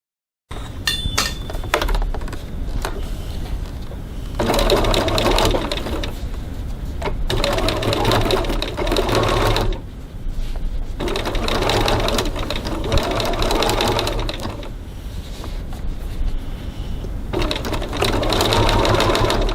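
A sewing machine stitches piping with a size 14 jeans needle, running in several long steady bursts separated by brief pauses, loud and close, with faint clinks between runs.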